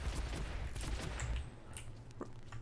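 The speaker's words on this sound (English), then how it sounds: "Are they shooting innocent people?" Bursts of gunfire in the shooter game Hitman: Absolution, a run of sharp cracks and short volleys at moderate distance, thinning out toward the end, with no talk.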